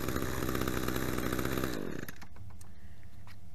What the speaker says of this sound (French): vous commencez par faire tourner, faire fonctionner votre débroussailleuse pour que le moteur soit chaud